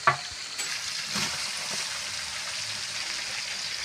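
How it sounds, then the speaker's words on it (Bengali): Two kilograms of onions fry to brown in hot oil with garlic paste for a large chicken biryani, a steady close sizzle with a few stirring clatters at the start. "পেঁয়াজটা বাদামি কালার করে ভাজবো"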